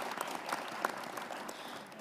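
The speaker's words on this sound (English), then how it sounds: "Please join me in giving a round of applause to our 2 presenters" Faint applause from a conference audience for two presenters, a steady patter of clapping heard from a distance.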